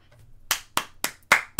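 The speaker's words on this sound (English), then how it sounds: "Round of applause." Clapping by one or a few people, heard as five sharp, separate claps in an uneven rhythm, close and clear against quiet.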